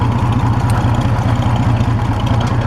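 An Oliver 70 tractor engine runs close by with a steady, low, rhythmic chug, loud and alone with no talking.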